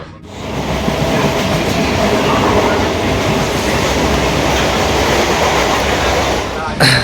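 A moving train headed for Sealdah rumbles loudly and steadily from inside a carriage, a constant rolling roar with a faint rhythmic clatter of wheels.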